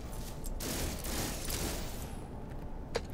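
The Boltcaster multitool weapon in No Man's Sky fires in a rapid, almost continuous stream of shots, loudest in the first second and then tapering off, ending with a single sharp click.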